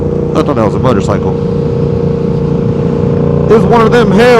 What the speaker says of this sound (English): It's one of them Hellcats.